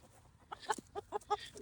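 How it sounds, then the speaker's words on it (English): Rooster inside a chicken coop gives a short run of clucking calls, four or five quick close bursts, fairly faint, with no talk during it. "Now I got a rooster in here."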